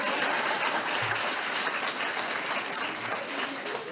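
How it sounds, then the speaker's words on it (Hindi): A crowd gathered for a Hindi-language religious talk bursts into loud, dense applause that holds steady for several seconds, then tapers slightly at the end. "इनको जोरदार ताली बजाइए इनके लिए।"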